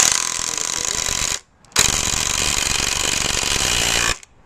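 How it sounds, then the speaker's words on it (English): A loud, rapid mechanical hammering burst from a Craftsman Hammerhead auto-hammer driving a nail, a short pause, then a longer sustained burst of fast pounding, close and harsh. "Put the auto hammer over it"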